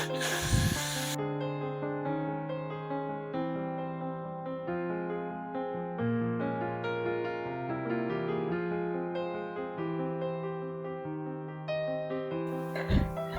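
Hair spray hisses onto a frontal wig in two short bursts, one at the start and one near the end, with steady background music playing throughout.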